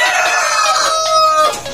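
A Dong Tao rooster weighing about two kilos crows once, a loud, close, drawn-out call lasting nearly two seconds, with no voices over it.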